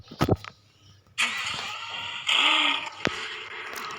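A car engine starts in a car sound video game: a couple of sharp clicks, then the starter cranks and the engine catches, rising into a steady idle with a brief rev, close and clear with no talking.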